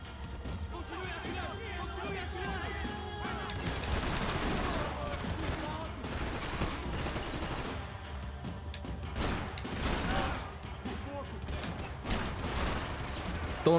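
Gunfire from the video game Max Payne 3: dense, continuous volleys of shots and clattering impacts over busy game ambience, steady and loud throughout.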